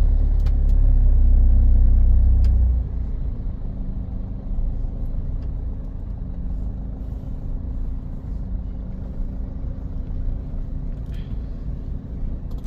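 A Toyota Etios diesel car accelerates in first gear, starting with a heavy, loud low rumble for a couple of seconds that then settles into a steadier, quieter drone of the moving car.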